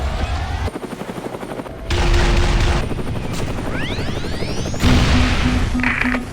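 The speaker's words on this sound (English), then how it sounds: "Human aircraft, let's bring him down." Halo: Reach machinima in which a human aircraft comes under fire. Bursts of rapid weapon fire, crashes and whooshing pass-bys sound over a steady engine drone, loud and chaotic throughout.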